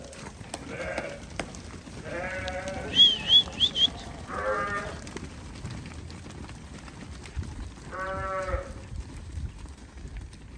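Sheep bleat on a farm flock for sale, several harmonic calls at moderate distance over a murmuring background, with a cluster of higher, sharper bleats near the middle.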